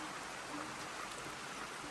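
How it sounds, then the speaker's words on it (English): Steady rushing of rainwater, a soft even hiss flowing through a downpipe at a cottage in Ireland, with no talking. "I'll show you how my little system works here in the downpipe. You can hear the water."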